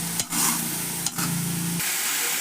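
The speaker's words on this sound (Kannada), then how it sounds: "ಎಲ್ಲ ಚೆನ್ನಾಗಿ ಕಲಿಸ್ಬೇಕು" A spoon stirs a green onion-leaf palya in a hot pan, two scraping strokes through gently sizzling oil, close and clear with no voices.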